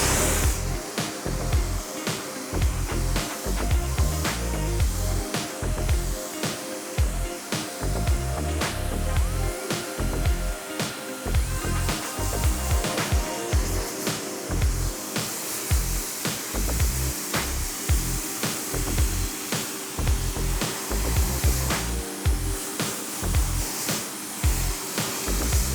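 Spray from a pressure washer rinses the soft top of a BMW Z3 convertible with a steady hiss, broken by rapid, regular pulsing bursts throughout.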